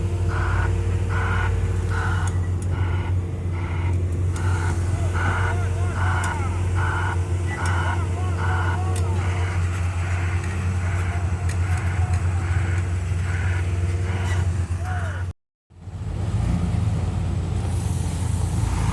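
A loaded truck drives through the Padang–Sicincin toll road construction site near Lubuk Alung, giving a steady, continuous engine rumble and road noise that briefly cuts out near the end.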